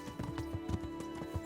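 Horse hooves clip-clop in Kingdom Come: Deliverance, a steady run of hoof strikes at walking pace, close and moderately loud, with a steady tonal hum beneath and no talk.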